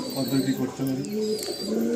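Red pigeons coo inside a loft, with low, throaty, repeated cooing phrases close by, while a voice talks over them.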